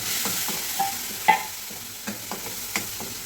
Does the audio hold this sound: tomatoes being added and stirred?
yes